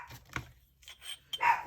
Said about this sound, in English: So, my dogs are barking.